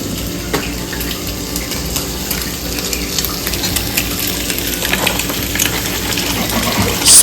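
An uttapam pizza dosa frying on a hot pan, with a steady close sizzle and crackle, light scraping touches, and a brief louder hiss near the end.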